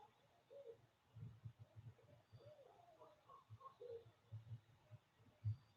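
Owls hooting outside at night, soft low repeated hoots heard faintly from a distance against quiet background hiss.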